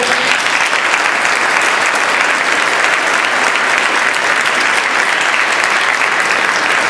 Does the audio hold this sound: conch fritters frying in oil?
no